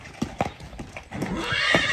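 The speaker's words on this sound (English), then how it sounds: "For a big horse, he can move a little bit like that." A big horse shifts and steps about, its hooves clip-clopping in a loose, uneven rhythm of close thuds, with voices talking over and around the footfalls.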